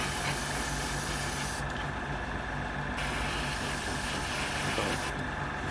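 A continuous, fairly loud spray-can hiss as a light first coat of paint goes onto a 1/6 scale Wonder Woman figure, with the spray slightly interrupted twice.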